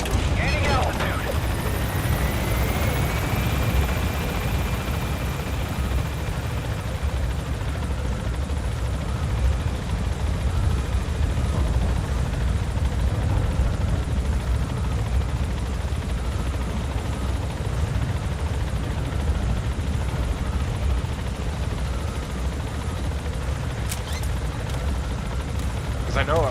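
Helicopter in Metal Gear Solid 5 gaining altitude, a loud steady rotor and engine roar holding throughout with a brief whine near the start.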